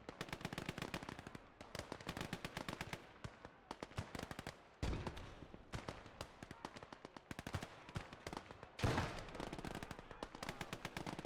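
Rapid bursts of Soviet PPSh submachine gun fire crackle in a Gates of Hell battle, long rattling strings broken by brief pauses and a couple of heavier blasts, loud and close.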